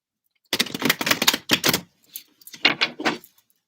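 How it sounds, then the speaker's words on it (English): Tarot cards being shuffled: close, crisp bursts of riffling card flutter in several quick rounds separated by short pauses, with no talking. "Let's get all your shuffling now."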